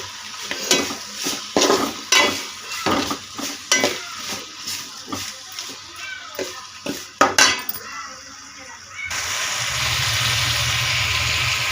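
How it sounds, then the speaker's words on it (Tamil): Spices, cashews and tomato fry in a pot of oil for one-pot biryani, stirred with a spoon in repeated scraping strokes against the metal for about nine seconds, then left to sizzle steadily and evenly. "பாருங்கள், நல்லா ஃப்ரை ஆகிட்டுருக்கு."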